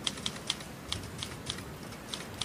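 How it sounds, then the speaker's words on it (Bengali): Typewriter keys clack in a horror audio story: about eight crisp, separate strikes tapping out at an uneven pace, fairly faint and with no voices. "আবার খটখট করে বেজে উঠল টাইপিংয়ের আওয়াজ।"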